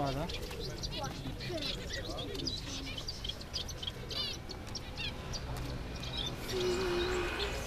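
Parrots and other birds chirp and call at a busy outdoor bird market, sharp tweets and squawks scattered over a dense crowd background while people talk nearby.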